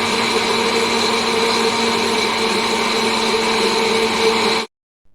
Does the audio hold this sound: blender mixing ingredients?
yes